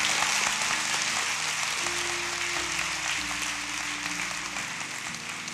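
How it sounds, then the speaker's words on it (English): Church congregation giving a clap offering to the Lord: steady, dense clapping fills the room throughout, with organ or keyboard chords sustained underneath. "you ought to give the Lord a clap offering right now"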